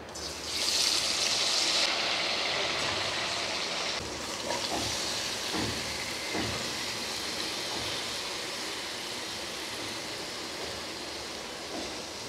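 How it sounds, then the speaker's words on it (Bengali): Jaggery-coated mango pieces tipped into a hot kadai of oil with panch phoron: a loud burst of sizzling at the drop, settling into a steady, slightly fading hiss with occasional pops. "তো এখন এই আম মাখানোটা আমি এই কড়াইতে দিয়ে দেবো।"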